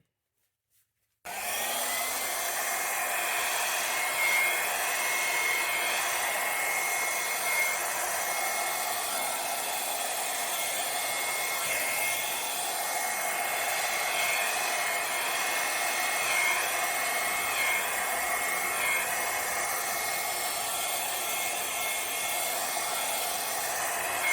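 A handheld blow dryer runs steadily close by, drying paint on a wood panel, a constant whirring rush that switches on abruptly after a moment of silence and continues without pause.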